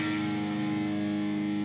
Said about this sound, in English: The note that will ring out here will be the open A.